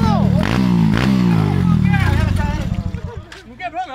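A Honda Pop 110 motorcycle fitted with a Titan 150 engine and 70 mm piston idles loud and close, its rough, pulsing engine note wavering then settling into uneven putters, with voices nearby.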